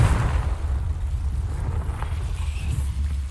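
Confringo fire spell explosion in the Hogwarts Legacy video game, a deep rumbling blast with a sustained low roar that fades slowly.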